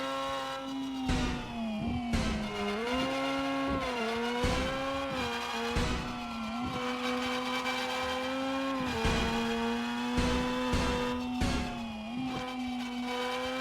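A small, quick race car in the video game Screw Drivers holds a steady, droning engine note that dips and rises with gear shifts and corners throughout, alone without talk.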